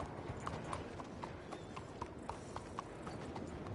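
A horse's hooves clip-clop in a steady walking rhythm in the video game Red Dead Redemption 2, soft and moderately close, with no talk over them.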